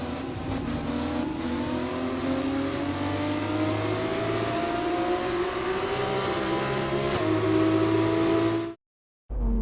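An F2 Prema race car in the F1 2024 video game idles and revs low as it rolls slowly into parc fermé, a steady droning engine note with slight pitch shifts, close and continuous before cutting off abruptly near the end.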